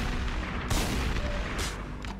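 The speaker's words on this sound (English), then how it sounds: "Where are those explosions coming from?" Heavy booming explosions in the video game Kite go off in several sharp bursts over a steady rumbling background, loud and fairly close.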